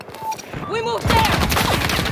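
Gunfire in the video game Battlefield 2042 on the Arica Harbor map in hardcore mode: a brief single shot, then from about a second in a dense, loud burst of rapid automatic fire.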